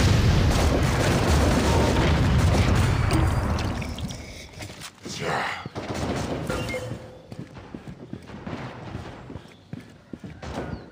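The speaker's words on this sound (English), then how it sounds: "Grenade out!" A grenade blast in the first-person shooter Critical Strike, part of a loud burst of booming explosions and rapid gunfire that dies down after a few seconds into scattered shots and softer crackle.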